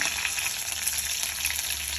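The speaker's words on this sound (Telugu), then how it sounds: "ముందుగా తాలింపులో పచ్చిమిర్చి వేస్తున్నాను" A constant, close hiss and crackle of green chillies sizzling in hot oil for tempering, steady and unbroken throughout.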